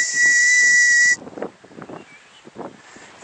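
A Mount Rainier marmot gives one loud, sharp, high whistle lasting about a second, followed by breathy wind noise and faint rustling outdoors.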